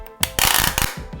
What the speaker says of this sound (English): never make it sound like this